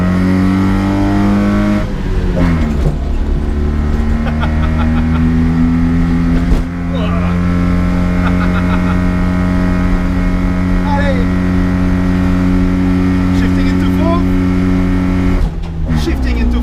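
A small 1980 Mitsubishi Minica engine drones steadily up a mountain road, pitch rising as revs climb, with brief dips at gear changes near two and fifteen seconds; the engine stays loud and close throughout, with no clear speech over it.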